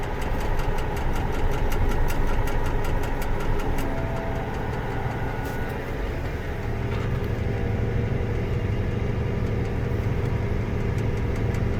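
A tractor's engine runs steadily at close range while scraping hard, freshly scraped dirt to build an approach, a loud continuous knocking diesel rumble with a slight dip in level midway.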